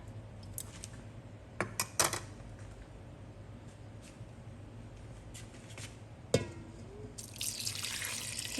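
Curry broth pours into a rice cooker pot over chicken with a soft splash, joined near the end by a steady rush of flowing liquid, with a few clinks and taps before it.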